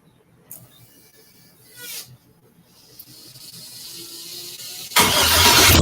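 A 1963 Pontiac Grand Prix engine starts after some faint clicks and a brief crank, then fires into a loud, steady idle close by in the final second.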